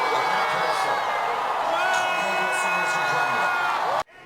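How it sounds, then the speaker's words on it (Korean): A large crowd of citizens at an impeachment rally cheers and whoops in celebration as the vote passes, a dense, loud, sustained roar of voices with shouts rising above it, cutting off abruptly near the end. "탄핵안 가결 결과까지 전해지자 시민들은 환호했습니다"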